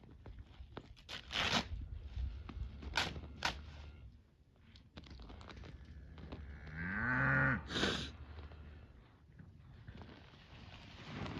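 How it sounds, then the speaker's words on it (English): Cattle mooing impatiently while waiting to be fed: several separate low calls from nearby cows, including one long drawn-out moo, with faint rustling between them. "The cows are impatiently waiting."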